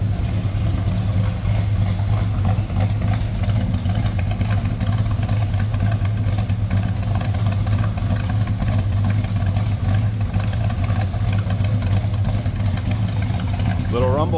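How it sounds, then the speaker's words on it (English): A 1969 Dodge Dart Swinger hardtop's Mopar V8 with a lumpy cam idles in neutral, a close, steady, unbroken rumble with no pauses. "rumble coming out of that Mopar"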